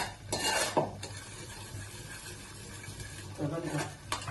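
A paneer matar masala mixture cooks in a pan on a wood-fired stove, with a soft, steady sizzle throughout and close scraping stirs near the start and again near the end.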